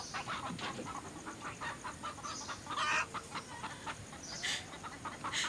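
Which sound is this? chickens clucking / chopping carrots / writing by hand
chickens clucking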